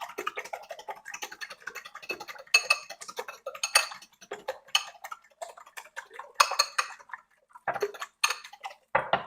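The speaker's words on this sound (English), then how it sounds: "And then we just whisk it all together." Metal whisk clattering and scraping rapidly against a bowl as ingredients are beaten together, a close, irregular run of sharp ticks and clinks with brief pauses, no voices.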